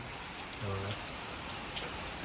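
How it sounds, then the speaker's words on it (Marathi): Dense, steady rainfall hisses throughout, heavy and close, with a brief low voice murmuring faintly underneath. "बाहेर बघा पाऊस का थांबण्याचं नाव नाही घेत आहे चांगलाच पाऊस पडतोय"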